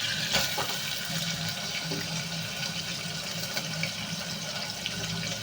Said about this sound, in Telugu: దీంట్లో ఆనియన్స్ అయితే వేసేస్తున్నాం